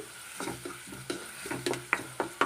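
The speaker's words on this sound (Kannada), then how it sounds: "ಶುಂಠಿ ಬೆಳ್ಳುಳ್ಳಿ ಮತ್ತು ಹಸಿಮೆಣಸು ಸ್ವಲ್ಪ ಹೊತ್ತು ನಾವು ಇದೇ ಥರನೇ ಫ್ರೈ ಮಾಡೋಣ" Onion frying with ginger, garlic and green chili in a pan, bursts of sizzle with repeated sharp stirring scrapes at an irregular rhythm, close and alone.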